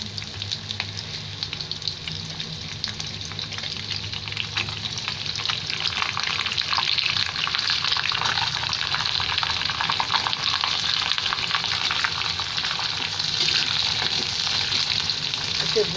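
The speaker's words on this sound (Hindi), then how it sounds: "इसे भूरा होने तक भूनेंगे।" Onions frying in oil with bay leaf in a pan while being stirred, a steady bright sizzle with scraping of the spoon throughout, fairly close and even, with no talking.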